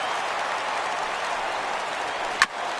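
A crowd at a baseball game in MLB The Show 17 applauds and cheers in a steady, dense wash of sound, with one sharp crack near the end.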